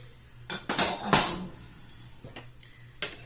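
An egg pan is picked up and set down in a kitchen, giving a few sharp metallic clanks and knocks close by, separated by short quiet gaps, with no talking.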